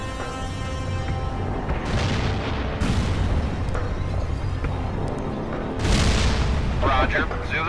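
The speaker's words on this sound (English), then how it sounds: "Zulu 9 are firing mortars at the target coordinates." Mortar and artillery fire thunder in World in Conflict, with heavy booms landing in several distinct waves over a constant rumble of battle and a steady electronic hum.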